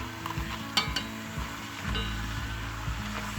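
Olai pakoda, a rice flour snack, deep-frying in very hot oil: a steady bubbling sizzle close by, with a few sharp clinks and stirring scrapes early on, no voices.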